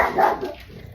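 A single short dog bark, close and fairly loud, fading quickly.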